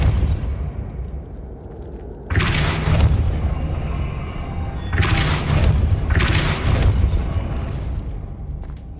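Depulso spell cast in Hogwarts Legacy, three heavy whooshing blasts with booming low impacts, each lasting a second or two and separated by short gaps over ambient game noise, loud and close with no talk.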